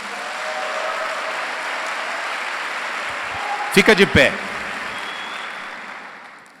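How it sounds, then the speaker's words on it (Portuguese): A church congregation at a Sunday service applauds in a broad, steady roar of clapping, with a brief spoken phrase breaking through near the middle before the clapping tapers off. "Dá um aplauso ao Senhor aí"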